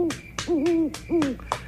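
A barn owl hoots several times in a row, clear, wavering calls close by with short pauses between them.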